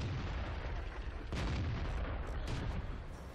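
Artillery fire from an FV304 self-propelled gun in World of Tanks: a muffled boom rises out of a constant loud engine-like rumble, with a second fainter burst shortly after.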